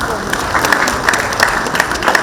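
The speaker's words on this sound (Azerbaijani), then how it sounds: "o misraları könül xoşluğuyla qoşan şairimiz Yusif Nəğməkarı da xahiş edirəm ürəkdən alqışlayaq." An audience applauds a poet at a commemorative literary event, steady clapping filling the hall throughout with no breaks.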